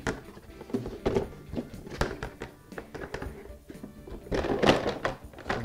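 Collapsible crate basket on the rear rack of a Lectric XP e-bike being folded down, giving a run of close, loud plastic thunks and clacks in irregular bursts.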